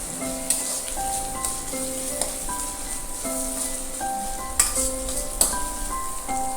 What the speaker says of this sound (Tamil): வெங்காயம் கொஞ்சம் நல்லா வெந்துடணும்